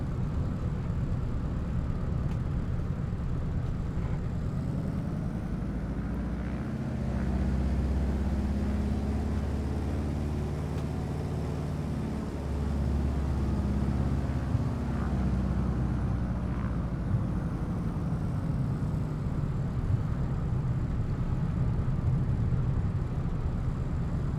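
A Cessna 195 taxiing after landing at Brandon, Manitoba, in a flight simulator game, a steady droning radial engine and propeller hum that holds level throughout with a slight dip in the middle.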